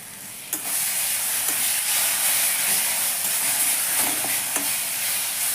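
Mustard paste hits a hot pan while cooking a Bengali bottle-gourd peel chechki, setting off a steady close hiss and sizzle with a few sharp spatula scrapes and taps on the pan.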